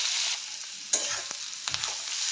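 Soya chunks fry in a pan with a steady close sizzle, broken by a few light scraping stirs.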